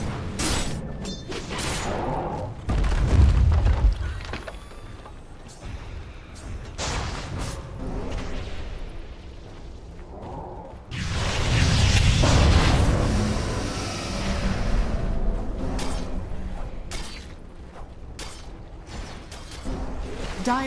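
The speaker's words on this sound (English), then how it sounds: "Dire's middle tower is under attack." Battle sounds from a Dota 2 match at The International 2023, with a Dire middle tower under attack: dense rumbling impacts, whooshes and booming hits in two heavy bursts over a busy game-audio bed, with no talk.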